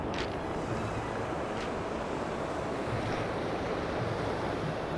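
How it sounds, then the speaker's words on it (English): Ocean surf rolling onto a shore at night, a steady broad wash of breaking waves with wind noise on the microphone, continuous and fairly loud without talk. "We've got some waves coming in"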